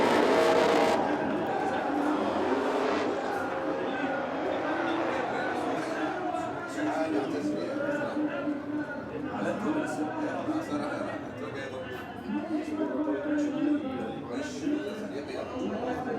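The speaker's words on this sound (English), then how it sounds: "Sebastian Fontaine warming up the tyres on the back of that E36 BMW 2JZ under the bonnet" An E36 BMW drift car with a 2JZ engine revs and spins its rear tyres to warm them up at a drift competition. The engine roar and tyre noise run under continuous commentator talk and crowd murmur.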